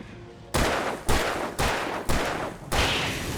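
Five loud gunshots ring out in the video game Alan Wake Remastered, spaced roughly half a second apart, each a sharp crack that trails off into a decaying echo.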